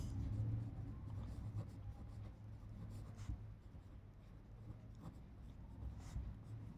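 Handwriting on paper while working a Class 8 maths problem, a steady close scratching that runs the whole time with short pen strokes and a low background hum, with no talking.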